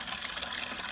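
A bare root tree is set into a container of water, giving a steady, close wash of watery splashing and gushing noise with no talk over it.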